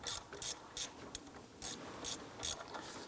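Ratchet clicking in short repeated bursts while a bolt is run in on the water pump of a 2005-2007 Ford Five Hundred engine, about eight close, crisp strokes with brief pauses between them, no talking.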